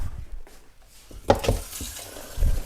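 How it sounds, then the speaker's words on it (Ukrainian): Water poured into a pot holding salt and sugar, mixing a brine for home-smoked pork belly; quiet handling clatter at first, then a bright splashing gush that keeps running to the end. "Тепер заливаємо це все діло водою"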